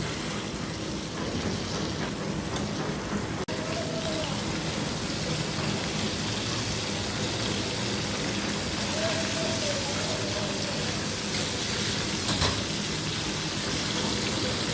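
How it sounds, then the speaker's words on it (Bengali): Oil sizzles and crackles steadily as hilsa fish fries with turmeric and salt, a dense, continuous hiss that stays even and fairly loud throughout. "এখন হলুদ লবণ দিয়ে আমি একটু হালকাভাবে ভেজে নেব"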